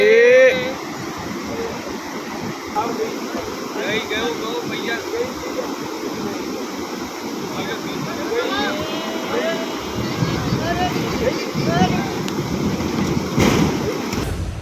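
A roaring torrent of monsoon floodwater rushes across a road and sweeps a roughly 60-tonne bus into a drain, a continuous loud wash with wind buffeting the microphone that swells louder near the end.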